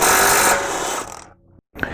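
A power tool with a 17mm socket whirs loudly as it undoes the lug nut bolts on a raised BMW M2 wheel, then tapers off, falls silent and clicks briefly.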